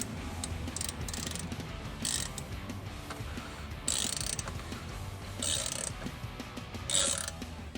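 Ratcheting tool turning a 10 mm hex bolt on a Segway Villain during a belt change, giving close, repeated clicking bursts with brief pauses between turns, no talk.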